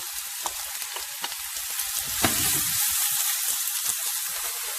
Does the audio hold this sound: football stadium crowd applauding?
no